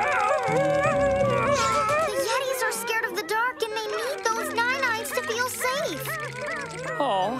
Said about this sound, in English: We heard howls. Unhappy howls?